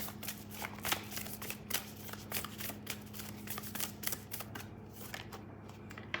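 A deck of tarot cards is shuffled and gathered in a steady run of soft, papery riffles and taps, close and fairly quiet, with no talking.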